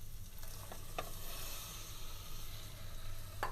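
Tomato paste and beans sauté in a pot with a steady, close sizzle and hiss, broken by a couple of brief scraping taps from a stirring utensil.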